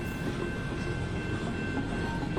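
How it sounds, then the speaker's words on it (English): A freight train rumbles past up close beside the track in North Battleford, a loud continuous roar with rattling cargo wagons and faint clickety-clack over the rails. "The trains are all cargo trains, no passenger trains going through North Battleford."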